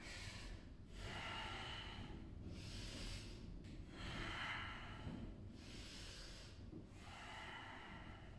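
Rhythmic yoga breathing during a spinal stretch kriya, with long, forceful inhales and exhales through the nose in a slow, repeating cycle, close and airy with no talk.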